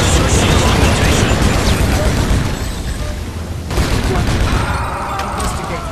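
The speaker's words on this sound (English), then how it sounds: "You're taking a lot of fire now, Ross." Dense, continuous gunfire and explosive bursts from the shooter Project Snowblind fill the whole stretch, loud and close, easing slightly midway before picking up again.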